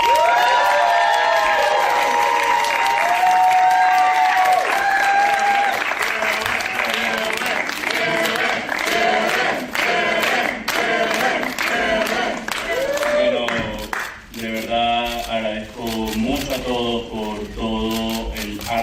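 An audience at a live press event applauds and cheers as a speaker is welcomed to the mic, with loud sustained clapping and a crowd shout, while voices carry on over the noise throughout.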